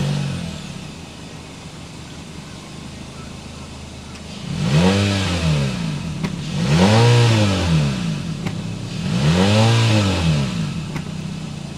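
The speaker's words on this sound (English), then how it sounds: "Let's go inside, start up, so you can hear that exhaust note." A 2023 Honda HR-V Sport with the Civic powertrain starts up and revs three times, each rise and fall swelling the exhaust note loudly over a steady background hum. Faint talk sits underneath.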